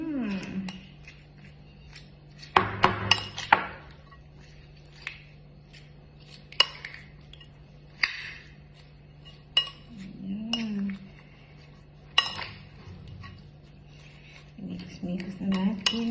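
Metal utensils clink and scrape against a bowl while mixing Filipino fish kilawin with mango, producing scattered sharp clatters and soft squishy stirring, close and moderately loud, with a low steady hum beneath.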